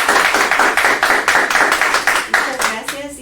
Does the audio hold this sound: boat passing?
no